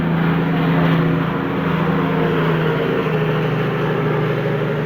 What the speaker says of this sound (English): sorry about that, big truck, really loud